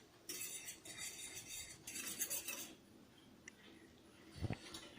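A utensil stirs a sauce in a pan for hot chicken, with bursts of scraping and clinking against the pan, then a quieter pause and a final knock.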